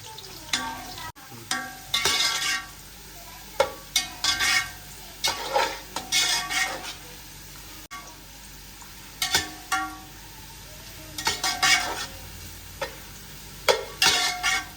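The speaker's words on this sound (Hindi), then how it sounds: "2 मीडियम साइज के प्याज थे जो हमने बारीक स्लाइसेस में काटे थे, ये भी डाल देंगे और इसको ब्राउन कर लेंगे" Thinly sliced onions browning in hot oil in a pan for chana pulao, a constant sizzle broken by repeated scraping stir strokes and utensil clinks in bursts, close and fairly clear with no talking.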